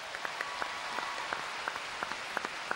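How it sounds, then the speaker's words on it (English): An audience at a speech applauds the speaker's parents, a soft, distant patter of many hands with a few sharper claps standing out, fairly faint throughout. "I'd love you to give them a big round of applause."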